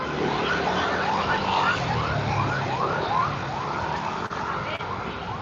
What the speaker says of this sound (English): A lot of horns, beeping, sirens.